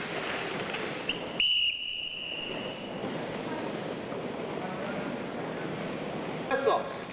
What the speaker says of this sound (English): Whistle.